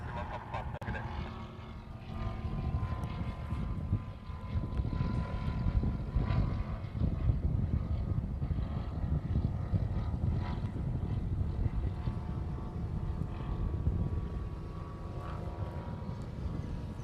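A FedEx Boeing 777 flies near Honolulu airport on its downwind turn, a broad low engine roar that swells and holds steady at a moderate distance, with no talk over it.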